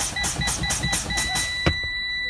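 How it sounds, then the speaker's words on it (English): A truck's low air pressure warning buzzer beeps repeatedly in a rapid, steady rhythm, loud and close, then stops with a sharp click. "My buzzer came on, and this is my low air pressure warning light."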